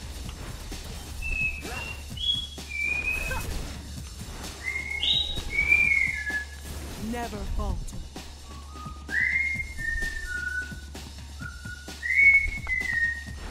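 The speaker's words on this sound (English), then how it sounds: "That's my bird. Yeah, I have a parrot." A pet parrot whistles in the background in short rising and falling phrases, repeated in bursts across the clip, under a voice and quiet game sounds.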